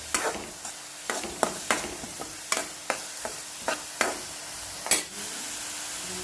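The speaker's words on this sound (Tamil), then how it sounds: "வெங்காயம் நல்லா வதங்கிட்டு இருக்கு, அது நல்லா சாஃப்ட் ஆகட்டும்." Onions with ginger and garlic sauté in a pan, a steady sizzle broken by a regular series of sharp scraping stirs close up, with no voices.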